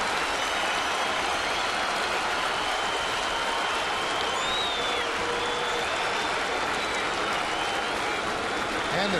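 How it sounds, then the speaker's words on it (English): A baseball stadium crowd at a 2009 Texas Rangers game cheers and applauds in a loud, sustained roar that holds steady throughout, with whistles rising above it and a commentator's voice faintly beneath. "Crowd getting loud, crowd getting into it."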